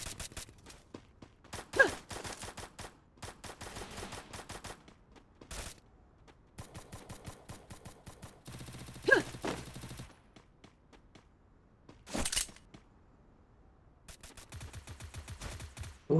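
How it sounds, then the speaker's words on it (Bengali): Bursts of enemy gunfire in a battle royale video game, rapid automatic volleys and single shots arriving in clusters with short gaps, some loud and close, others thinner and more distant, with no talking. "দেখতে পাচ্ছেন এই পাশে অনেক এনিমি ফায়ার করছে।"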